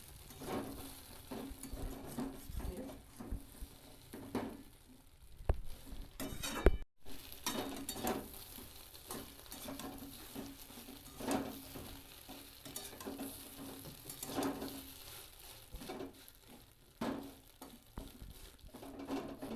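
Egg-dipped bread slices with onion and green chilli sizzle and spatter in a frying pan, punctuated by repeated scraping and pressing with a spatula and occasional clinks of utensils against the pan.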